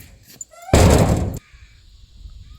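A house door is pushed shut with a loud, broadband rushing thud lasting about half a second and ending abruptly, after a few faint knocks, with quiet background afterward.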